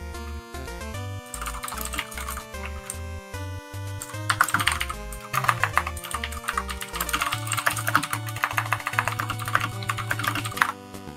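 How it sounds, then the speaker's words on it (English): Typing on a computer keyboard, rapid irregular key clicks running throughout, partly under a repeating electronic melody and tones. "Just regular typing."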